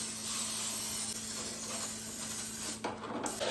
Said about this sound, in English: I'm gonna get them a good spritzing of olive oil spray.